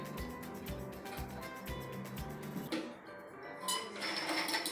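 The lid of a 1 litre masala chutney grinder with a removable stone comes off with quiet metallic clinks and clatters, a light rattle that ends in a brief knock.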